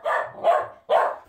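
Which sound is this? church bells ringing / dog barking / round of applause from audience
dog barking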